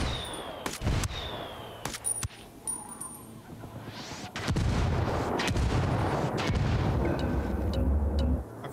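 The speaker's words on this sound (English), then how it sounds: "I called the rebels for some indirect fire." Rebel mortar indirect fire in Ghost Recon Wildlands arrives as booming impacts and gunfire, with a few sharp bangs early and then a dense, continuous rumble of explosions and shots filling the later seconds.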